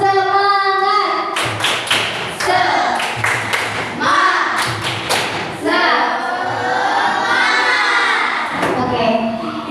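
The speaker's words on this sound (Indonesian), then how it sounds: "Kita tepuk semangat dulu ya." A classroom of schoolchildren claps a rhythmic spirit clap in quick, patterned bursts of sharp claps with brief pauses, mixed with children's voices chanting along, loud and close.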